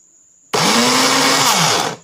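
An electric multi-blender starts abruptly with its blade spinning and gives a loud, steady high-pitched whir for about a second and a half before cutting off.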